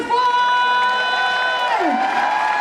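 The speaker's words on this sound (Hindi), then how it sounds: "yes ladies and gentlemen, दोनों हाथ ऊपर, जोरदार तालियां" A crowd applauds and cheers to welcome guest Mahipal Singh on stage. A loud sustained musical chord fades out, leaving a broad wash of clapping and cheering.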